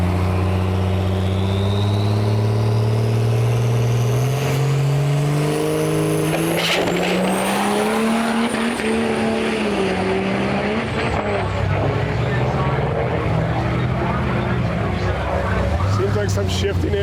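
Cummins common-rail diesel powered 1957 Ford F100 making a drag racing pass at Sick Week, its engine roaring loud and continuous with rising revs and gear changes, crowd and track noise around it.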